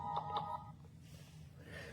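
A child's mobile phone gives a short series of electronic beeps as it is switched off, two close tones near the start, then fading into quiet room noise.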